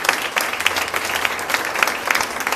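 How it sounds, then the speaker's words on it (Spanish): A congregation at a Spanish-language church service claps for God, with crisp, quick handclaps repeating evenly throughout at a steady, fairly loud level and no talking on top. "Le puedes dar un aplauso a Dios"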